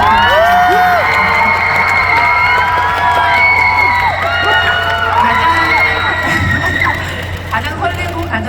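A loud, close crowd at an open talk at the Busan International Film Festival breaks into cheering, shrieks and whoops over clapping. Excited voices dominate the whole stretch, and the noise eases slightly near the end.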